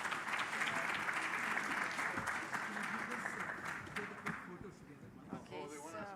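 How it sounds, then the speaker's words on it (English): An audience at a Canadian technology conference gives panelists a round of applause, loud, dense clapping that gradually thins and fades, followed by a person beginning to speak. "Another round of applause for the panelists."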